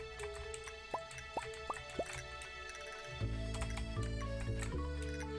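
Watering in a farming video game makes a quick series of four soft, evenly spaced droplet blips, followed by a steadier gushing tone under ongoing game music.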